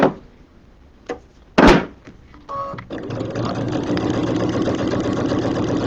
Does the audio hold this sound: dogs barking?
no